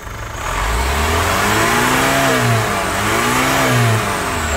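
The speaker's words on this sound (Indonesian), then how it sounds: "sekarang coba kita injak gasnya. Gas, Bos. Lagi." A car engine revs up loudly from idle as the gas pedal is pressed, holding a strong, wavering roar close by for several seconds with a slight dip and rise in pitch.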